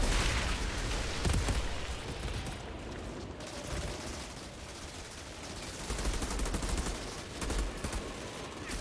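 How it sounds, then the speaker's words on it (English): Turret gunfire in the Outriders shooter game, a steady crackle of rapid automatic shots with booming impacts that runs dense and loud for the whole stretch, with no talking. "Follow the shots of the turret."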